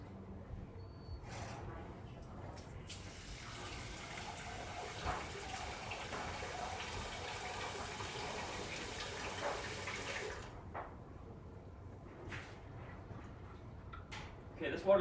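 Tap water runs steadily into a pot of rice being rinsed for a rice cooker, a soft continuous splash that stops near the end and is followed by faint handling clicks.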